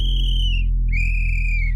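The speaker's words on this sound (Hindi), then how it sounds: "मगर फिर से जैसे ही चौकीदार सीटी बजाता है उसके बाद यश भी बजा देता" A watchman's whistle gives two long, shrill blasts close and loud, the first fading out before a short gap and the second held slightly longer, over a low steady rumble.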